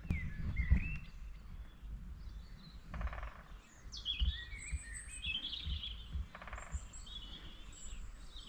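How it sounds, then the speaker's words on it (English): A woodpecker on a moor path near Ramsley Hill and Cosdon Beacon in March: two short, distant bursts of rapid drumming among faint chirping birdsong, with footsteps and breeze close by. "I'm hearing a woodpecker."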